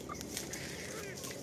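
Sasso hens and a native Hulu rooster clucking on a farm, soft close calls and short clucks scattered over steady low background noise, no talk.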